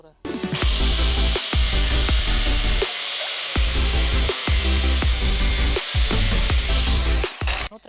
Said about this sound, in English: Similarly, we made the same cut on the other side, so as not to exceed this line, on which we will make a cut.